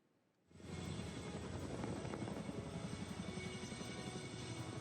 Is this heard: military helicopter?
yes